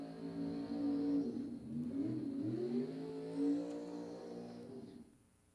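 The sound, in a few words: drag racing rail dragster launching down the strip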